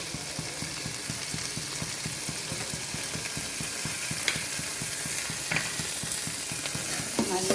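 Green chillies and onions fry in oil in a pan while being stirred, giving a steady close sizzle broken by rhythmic scraping and clinking strokes of the spoon, with no talking.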